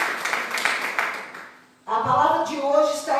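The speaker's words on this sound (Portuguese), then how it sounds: "Aplauda o Senhor Jesus." A church congregation applauds together, a dense wash of clapping that fades out before a voice begins speaking.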